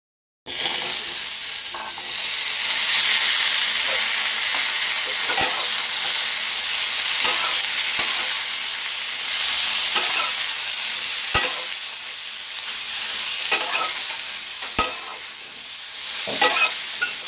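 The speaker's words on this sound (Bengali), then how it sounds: "এখানে আলুর সাথে পেঁয়াজকলিটা আমি হালকা করে ভেজে নিচ্ছি।" Potatoes with onion stalks frying in a pan, a constant close sizzle with regular scraping clicks of a spatula stirring through it, no voices over the cooking.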